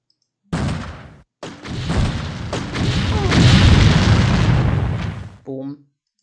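A loud, booming explosion of ammo hit by blasts in the game X-Com Apocalypse bursts in, cuts out briefly, then roars on in a long rumbling blast before ending abruptly, with a short voice after.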